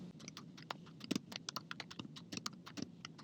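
Quiet, fast typing on a computer keyboard into a notepad window, a steady run of light clicking keystrokes with a few heavier taps, close and alone.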